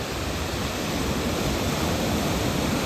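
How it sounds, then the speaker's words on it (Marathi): Sea waves break near the shore in a steady, broadband wash of surf that stays loud and even throughout. "समुद्राच्या खूप जवळ आलो आपण आता."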